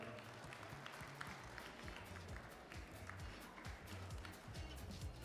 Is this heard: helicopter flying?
no